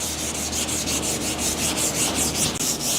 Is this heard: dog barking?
no